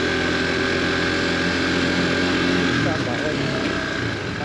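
A motorcycle engine runs after a road crash with a steady, buzzing hum and a faint whine, with muffled voices mixed in.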